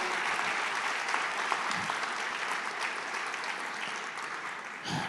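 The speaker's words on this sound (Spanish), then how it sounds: "denle un fuerte aplauso al Señor Jesucristo" A church congregation applauds during a Sunday morning service, producing a full, continuous wash of clapping that holds steady before tapering slightly at the end.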